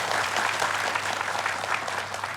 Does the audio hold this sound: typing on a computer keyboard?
no